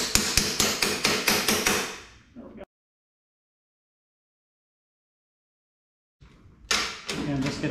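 A hammer taps a bolt into a Kobalt 10-inch portable saw in a quick run of sharp, evenly spaced strikes that fade out, followed by silence and then a few more taps.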